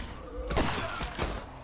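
Gunfire bursts in the video game State of Decay 2, a couple of sharp loud cracks about half a second apart amid game noise, with a voice faintly present.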